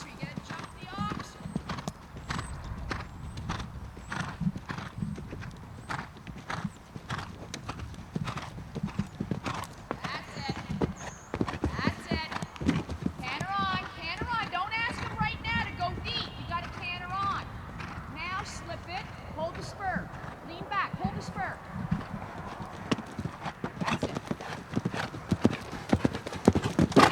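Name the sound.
horse hooves cantering and jumping an oxer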